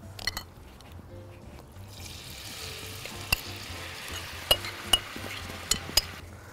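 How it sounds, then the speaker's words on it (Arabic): Vegetables sautéing in hot oil in a pan alongside fish, a steady close sizzle and crackle with a few sharp pops and spatters toward the end. "احط الخضار اشوحه"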